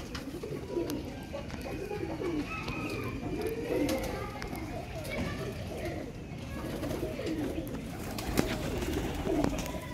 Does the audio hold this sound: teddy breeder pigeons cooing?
yes